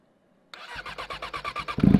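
A car engine cold-starting: a cranking starter chugs rhythmically for about a second before the engine catches and rises in a louder, rough burst, close up with no talking.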